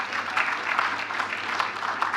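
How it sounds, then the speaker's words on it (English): An indoor audience at a lecture and fellows induction ceremony claps steadily, a dense, even round of applause from many hands at moderate distance. "I want you to clap for yourself for the great contributions you have made"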